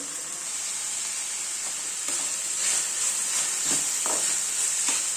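Capsicum and other vegetables frying with salt in a hot pan for veg fried rice, a steady close sizzle with stirring scrapes scattered throughout, no talk.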